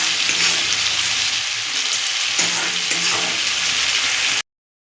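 Fried lentil dumplings (bori) sizzle in a papaya ghonto curry, a steady loud frying hiss with faint stirring clinks throughout, ending abruptly before five seconds.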